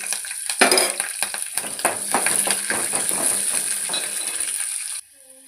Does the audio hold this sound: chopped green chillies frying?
yes